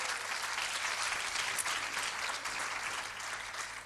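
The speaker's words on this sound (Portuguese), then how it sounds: "Uma salva de palmas a todas as" Church congregation applauding the mothers at a Mother's Day service, a dense, steady wash of clapping hands filling the room for several seconds at moderate level, with no voices over it.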